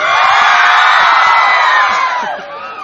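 A large crowd at a gay beauty pageant cheers, whoops and screams loudly all at once, a sustained roar that fades slightly toward the end.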